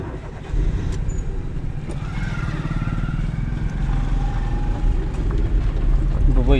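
A car pulls away in first gear after the clutch is released during a driving lesson, its steady engine drone and road rumble continuing at an even level throughout.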